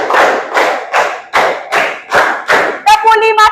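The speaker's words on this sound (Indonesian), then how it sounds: "Tepuk 4 2 kali" Children in a school class clap in unison, about six loud, evenly spaced claps in a steady rhythm, close by, before a voice speaks at the end.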